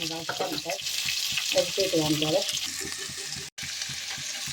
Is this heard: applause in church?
no